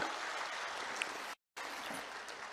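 Applause at a political rally in Bihar welcoming the Chief Minister: a dense, steady wash of clapping from a large crowd that cuts out abruptly for a moment, then resumes at the same level.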